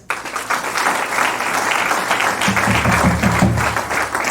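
A church congregation at a sermon bursts into sustained applause, a loud, dense wash of clapping that keeps going throughout, with some low rhythmic thumps toward the end.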